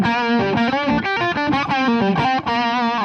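An electric guitar played through a Boss OS-2 overdrive/distortion pedal rings out loud and close, a flowing melodic line with sustained, gritty distorted notes and no pauses.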